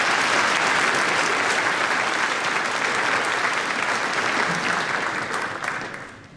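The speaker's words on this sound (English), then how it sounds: "Let's give them a round of applause." Loud, full applause from the audience at a high school graduation ceremony, steady clapping for several seconds that tapers off at the end.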